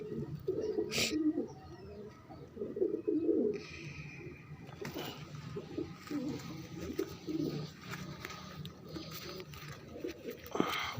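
Pigeons cooing in a loft, soft rounded coos repeating through the whole stretch, close by with a busy background and occasional sharper chirps.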